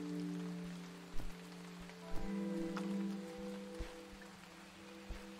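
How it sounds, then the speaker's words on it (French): Rain falls steadily in the video game Starbound, a soft continuous patter over a low hum, with a few louder droplet ticks scattered through it and no voices. "Ah ça y est, il pleut sur notre petite plantation."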